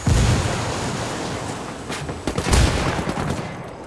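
Dense, sustained gunfire in the tactical shooter Ghost Recon Wildlands, a continuous rattling fusillade with heavier bursts near the two- and two-and-a-half-second marks, loud and close with no voices.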